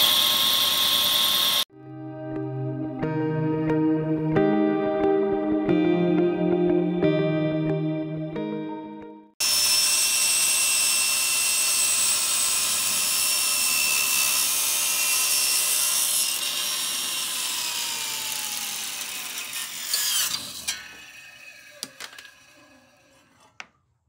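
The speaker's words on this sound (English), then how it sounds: "just turn your saw on and start to taper." A power saw cutting a taper into a wooden table leg, running as a loud steady whine for several seconds, then winding down into clattering handling. It comes after a stretch of unrelated music.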